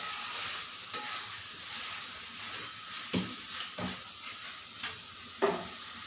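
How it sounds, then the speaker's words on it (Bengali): Chicken pieces with spices sizzle steadily in a pan while a utensil stirs them, with about six distinct scraping strokes against the pan above the constant frying hiss. "মশলার সাথে চিকেনের পিসগুলো ভালোভাবে মিশিয়ে বেশ কিছুক্ষণ আরও আমি এটা হতে দেব"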